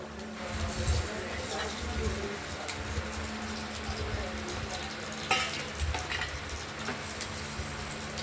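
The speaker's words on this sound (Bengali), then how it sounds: "শুকনো লঙ্কা তেজপাতা দু রকম জিরি দিয়েছি কালো জিরেও দিয়েছি সাদা জিরে একটু ভাজা ভাজা করে নিই" Dried red chillies, bay leaf, and black and white cumin seeds frying in hot oil give a steady, close sizzle with a few soft clinks and stirring scrapes.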